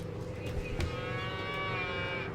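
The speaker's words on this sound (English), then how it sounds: "That cow is really active." A cow moos in the video game Norwood Suite, a single long drawn-out low call with a wavering pitch that holds steady over a constant game background hum.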